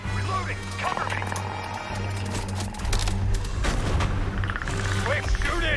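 Gunfire in the video game Predator: Hunting Grounds comes as a loud, continuous burst of shots layered under players talking.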